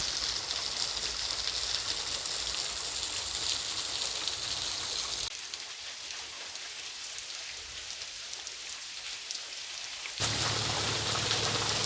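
A waterfall pouring down a creek, heard from behind the falling water as a dense, steady hiss and rush, close and constant, easing slightly in the middle stretch before surging fuller again.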